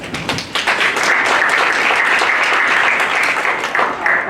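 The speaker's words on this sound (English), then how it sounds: "So please give yourselves a round of applause." An audience at a community candidate forum claps in sustained, fairly loud applause that swells quickly and holds steady before tapering slightly.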